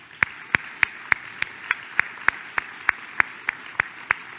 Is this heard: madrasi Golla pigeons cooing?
no